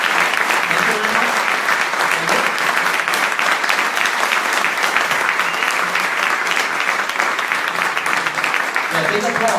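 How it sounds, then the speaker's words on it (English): Loud, sustained applause from an audience after a makeathon presentation, a dense unbroken wash of many hands clapping at an even level for nearly ten seconds, with voices faintly mixed in. "big applause"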